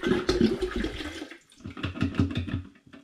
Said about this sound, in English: I need to add some spring water